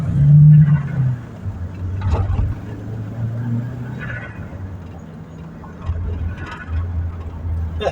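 An Audi A3 turbo engine fitted with a flutter valve and a sport air filter rumbles from close by, rising and falling in loud surges with brief breathy bursts between them.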